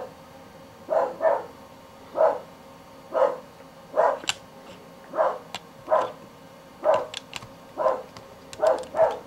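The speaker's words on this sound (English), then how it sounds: "Stupid dogs won't shut up." Dogs barking repeatedly in the background during silicone mold making, about a dozen short sharp barks in an irregular rhythm, moderately distant and alone without talk.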